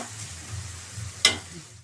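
Ground spice paste hits a hot pan with one sudden, brief sizzling burst that fades over a low background hum of the cooking.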